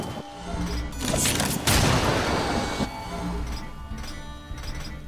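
A heavy crashing smash of a stone in Darksiders 2 bursts out, a booming crunch that rises sharply then fades into a busy electronic background.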